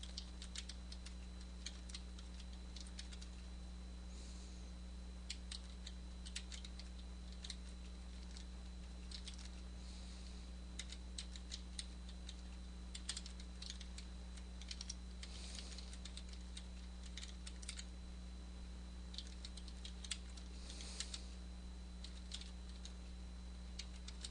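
Fingers type on a computer keyboard in a quiet room, a sparse, uneven run of soft key clicks over a constant low electrical hum, no speech.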